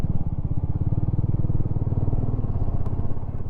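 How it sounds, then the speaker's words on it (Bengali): A motorcycle rides up a hill road in Darjeeling, its engine droning steadily and close with a rough, pulsing rumble that holds for the whole stretch, with no voices. "জীবনে প্রথমবার আজকে পাহাড়ে বাইক চালাবো"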